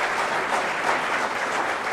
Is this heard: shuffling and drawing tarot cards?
no